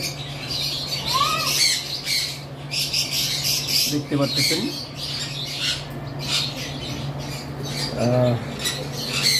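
A breeding pair of English budgerigars gives several sharp squawks and short chirps at close range, scattered over a steady low hum, while a person speaks briefly.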